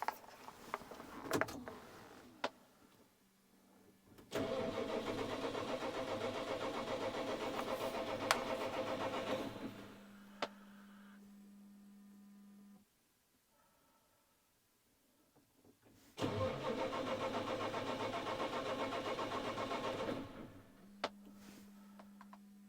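Engine cranking after its fuel filters were primed: two long, loud stretches of starter churning separated by a quiet pause, each followed by a steady low electrical hum and faint ticking.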